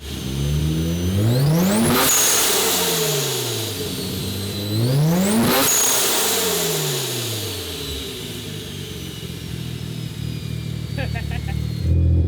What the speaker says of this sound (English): Let me just do free revs.